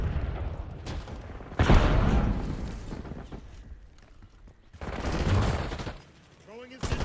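Gunfire in the game Call of Duty: Black Ops 6, bursts of rapid shooting and heavy blasts in two loud stretches separated by quieter combat noise, with faint mechanical clatter.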